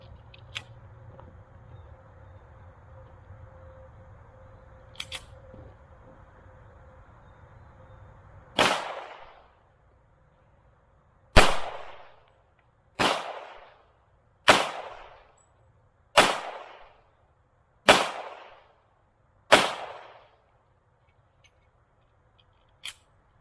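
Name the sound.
Springfield 1911 pistol firing 45 ACP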